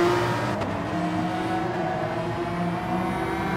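A McLaren race car engine in GT Sport, racing on a Tokyo circuit: a steady, loud, droning motor hum holds at a constant pitch throughout with no voices.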